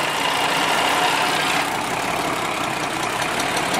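Engine of a vintage Unimog truck idling just after a cold start, with a steady, loud, rough rumble and a slight knocking texture that hold nearly unchanged throughout.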